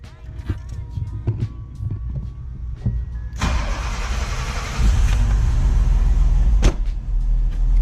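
A fuel-injected car's electric fuel pump hums briefly before the engine cranks and fires up at close range, settling into a loud, steady idle.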